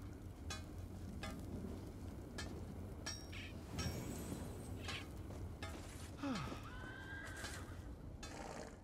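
A horse whinnies a couple of times in a video game, over a steady low rumble of ambient noise, with faint clip-clop and scattered clinks in the background.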